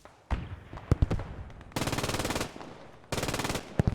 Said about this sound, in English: The MG42 of Kuro.